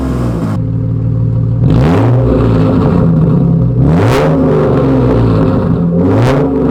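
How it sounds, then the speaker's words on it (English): A Lexus IS300 engine with an exhaust leak from aftermarket racing headers is revved repeatedly nearby, three rising and falling surges over a loud, raspy, ticking idle. "I do have a fat exhaust leak right now from the eBay racing headers, and it does sound"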